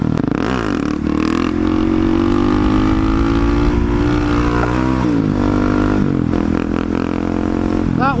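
A Husqvarna supermoto motorcycle runs fast, its engine droning loud and close with rising and falling revs, mixed with wind rush and a voice talking over it.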